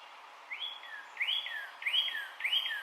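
A small bird repeats a bright rising-and-falling chirp outdoors, four calls spaced roughly half a second apart, fairly close and clear over a low steady background hiss, with no talking.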